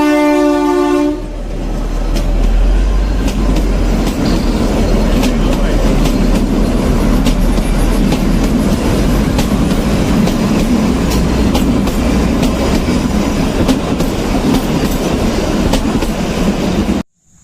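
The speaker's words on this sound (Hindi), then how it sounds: "या रेल आ गई" A train rolls past for over fifteen seconds, loud and close, with a steady rumble and rattling wheels, a horn sounding at the start.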